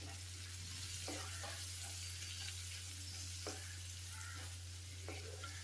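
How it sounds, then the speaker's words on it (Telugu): Chopped onions fry over a medium flame, a soft steady sizzle with a few light stirring scrapes and a constant low electrical hum underneath. "అలా మీడియం ఫ్లేమ్లోనే ఈ ఉల్లిపాయ ముక్కలు కూడా వేయించేసుకోండి"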